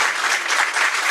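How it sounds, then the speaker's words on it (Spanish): A lecture audience gives a brief burst of dense, even applause, close and continuous throughout with no voices over it. "Un aplauso por esta excelente conferencia"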